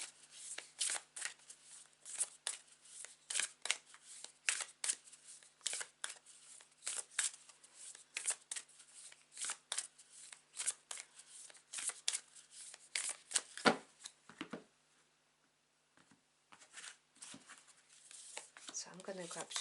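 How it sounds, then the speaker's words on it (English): A tarot card deck is shuffled by hand in repeated quick riffling bursts, close and crisp, pausing for a short quiet spell before the shuffling resumes. "take a couple of deep breaths as I shuffle it"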